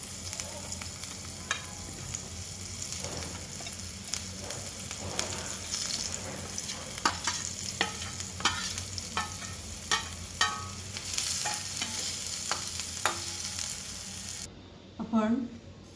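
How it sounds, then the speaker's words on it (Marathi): Onions sauté in a pan for a Rajasthani cauliflower dish, with a constant sizzle broken by irregular scraping and clinking strokes of a spoon. Quieter stirring clatter follows after the frying drops away near the end. "कांदा पण आपल्याला परतून घ्यायचा आहे"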